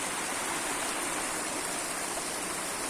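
Water pours through the Krishna Raja Sagar dam on the Kaveri river at Mysore as a dense, continuous roaring rush, loud and even from start to finish with no voices.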